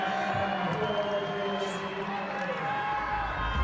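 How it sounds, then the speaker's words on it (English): A stadium crowd at the WUGC 2004 ultimate frisbee open final between the USA and Canada roars and cheers after a score, a steady wide wash of voices filling the air from start to end. "And the crowd is reacting."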